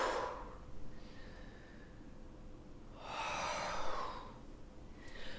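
Breathing during a kundalini yoga session: two long, airy breath cycles, close and fairly quiet, each a broad rushing inhale or exhale swelling and fading, separated by a still pause, with no talking.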